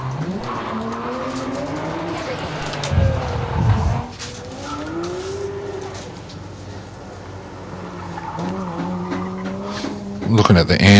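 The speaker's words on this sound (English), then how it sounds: "Looking at the Andrew Campbell Nissan GTR now, crossing the line." A Nissan GTR race car at a hillclimb crosses the finish line, its engine note rising and falling in sweeping tones with a loud surge near the end, under continuous commentary.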